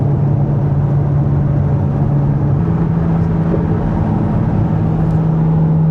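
A Corvette drives smoothly, heard from inside the cabin as a loud, steady engine and road drone with a constant low hum. No one talks over it.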